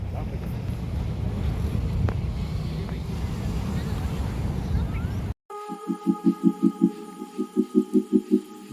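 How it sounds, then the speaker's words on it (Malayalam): Cool night wind near Kollam roars steadily and loudly across the microphone for about five seconds, then cuts off abruptly into a different rhythmic pulsing sound. "നല്ല തണുത്ത കാറ്റ് ഗൈസ്"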